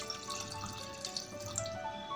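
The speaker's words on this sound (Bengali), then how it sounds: "এখন সামান্য একটু জল অ্যাড করছি।" Water pours from a tap into a pressure cooker holding mutton, a soft continuous splashing trickle with small drips, faint and close.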